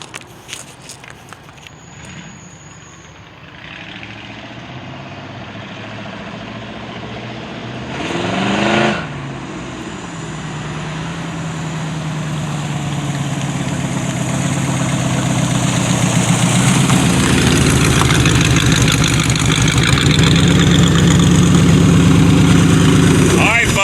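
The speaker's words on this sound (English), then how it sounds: "That's a 1978 Chevy Love Truck that's been rebuilt with a 305 Chevy." A 1978 Chevy LUV truck, rebuilt with a fuel-injected 305 Chevy engine, idles and then approaches: a steady engine hum that swells gradually louder and closer, with a brief clatter midway.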